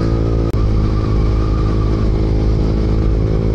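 A stock motorcycle engine runs loud and close, a steady throaty rumble with a brief cutout near the start before the revving drone resumes.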